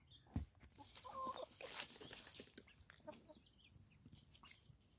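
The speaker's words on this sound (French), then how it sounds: "J'ai également lâché les poules. Les poules dans le potager." Hens cluck in short, irregular bursts close by in a vegetable garden, with soft rustling and outdoor ambience around them and no one speaking.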